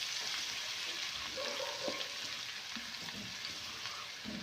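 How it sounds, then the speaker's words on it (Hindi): Garlic-ginger paste frying in a pan for a potato-and-pea curry, giving a steady close sizzle with light stirring scrapes throughout. "लहसुन अदरक का पेस्ट 1 मिनट पहले हल्का सा इसको पका लेंगे"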